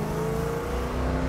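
A 1970 Oldsmobile 442 Hurst tribute with a four-barrel V8 hums steadily under throttle, a close, even engine drone with a low rumbling tone and no talking.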